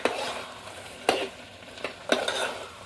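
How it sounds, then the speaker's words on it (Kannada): Chicken with chilli masala being stirred in a pan outdoors in a village field, a faint sizzle under three or four distinct scraping strokes of a spoon against the pan. "ಇವಾಗ ಖಾರ ಮಸಾಲೆ ಹಾಕೊಂಡ್ಕಿರಿ ಎಲ್ಲ ಮಿಕ್ಸ್ ಮಾಡ್ಕೊಳ್ಳೋಣ"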